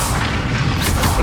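A Confringo spell bursts in Hogwarts Legacy combat, a dense, loud blast of booming, crackling noise that fills the short moment with no voices over it.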